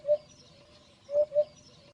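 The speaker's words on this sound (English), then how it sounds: "call of a hoopoo bird" A hoopoe's soft, hollow call: a short coo near the start, then a quick pair of hoots after a pause, faint and fairly distant with no speech.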